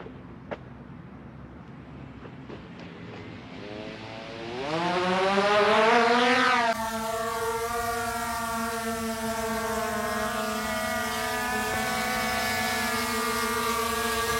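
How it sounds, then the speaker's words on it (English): A drone takes off and settles into a hover, its rotor whine rising sharply in pitch and loudness during liftoff, then holding as a steady close buzzing drone with no talking. "So you can see the drone is in a hover"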